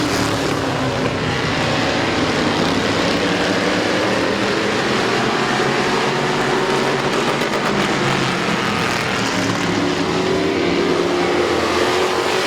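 Race cars circle the Midvale Speedway track in a continuous, dense engine roar, several machines blending together at steady volume with rising and falling pitch as they pass.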